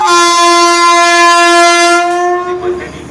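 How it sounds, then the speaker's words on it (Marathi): A loud, sustained horn from a Vande Bharat Express train (Jalna–Mumbai service) blares close by for about two seconds, then cuts off as rumbling continues. "ये है जालना मुंबई वंदे भारत एक्सप्रेस"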